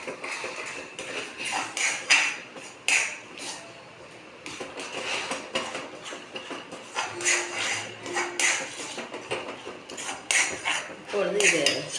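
A sweet mixture is stirred in a kadai (wok), the spoon scraping and clanking against the metal pan in quick, irregular strokes, loud and close, with a few brief pauses.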